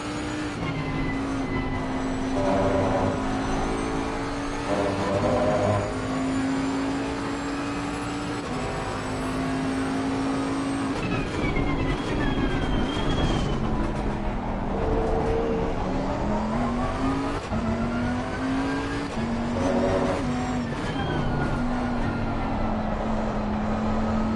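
A GT race car engine in the racing game Assetto Corsa Competizione on the Barcelona circuit drones steadily, climbing and dropping in pitch through gear changes and revs, loud and continuous with no talk.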